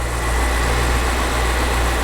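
A 2007 BMW X5 engine idles smoothly and steadily with a low, even hum and no other sounds over it.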